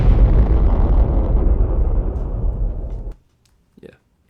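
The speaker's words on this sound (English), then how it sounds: "And then finally the last explosion here. The big one" A big, loud final explosion in a sound-design mix for an Evangelion redesign, a broad deep blast that rumbles steadily for about three seconds and then cuts off abruptly, followed by a faint short tail.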